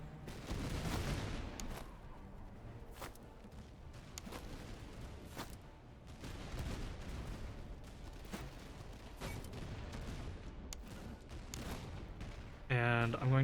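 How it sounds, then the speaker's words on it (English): Musket volleys crack in the Master of Command battle game, a ragged series of sharp gunshots scattered across the field, some near and loud, others distant, with a denser burst near the end. "Okay, open fire when ready."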